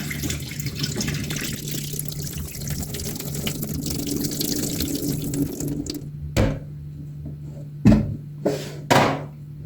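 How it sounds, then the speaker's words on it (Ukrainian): Fermented beetroot brine pours steadily from a container into a kitchen sink for about six seconds, a continuous watery rush that then gives way to a few short splashes and drips in near silence. "Весь розсіл зливаємо."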